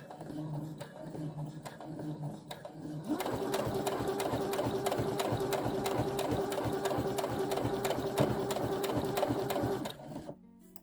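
A sewing machine runs steadily, stitching a seam along fabric, with a fast, even mechanical whir that starts after some quieter handling, continues for several seconds and then stops.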